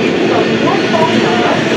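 A freight train hauled by twin New Katni Junction WAG-7 locomotives rolls through Kanchrapara station toward Kalyani, a steady loud rumble of wheels and engine filling the scene without a break.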